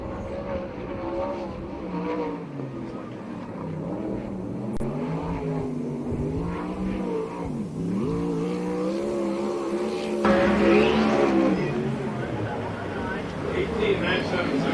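A USAC sprint car on a qualifying lap, its high engine note rising and falling as it circles the track, steady under a race announcer's ongoing commentary.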